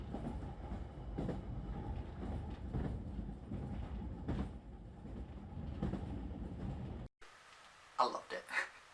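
An old Class 483 train on a bumpy ride, with a steady rumbling rattle of the carriage and rhythmic jolts and clacks from the wheels, close and continuous before the sound cuts off abruptly near the end.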